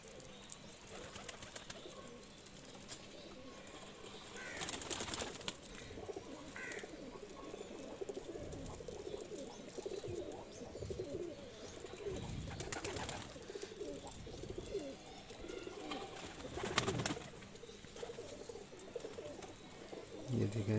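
Teddy breed pigeons coo softly in a loft, with repeated low throaty calls and a few louder bursts over quiet background noise. Faint talk can be heard now and then.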